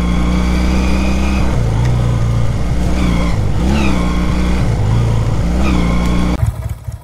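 Honda CD 200 Roadmaster motorcycle engine revving up and down in several swells, close and loud, before the throttle drops off near the end.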